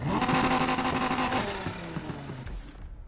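A car engine in Need for Speed Heat revs hard against the rev limiter, giving a loud, steady, buzzing drone with harmonic bands that wobble and step down before cutting off near the end.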